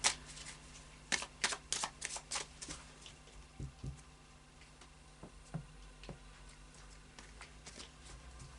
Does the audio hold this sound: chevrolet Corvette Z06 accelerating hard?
no